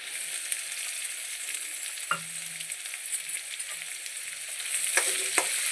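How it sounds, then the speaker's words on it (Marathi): Onions frying in hot oil with a continuous sizzle, broken by occasional spatula scrapes and clinks, growing slightly louder near the end. "आता त्याच्यात घालूया आपण कांदे."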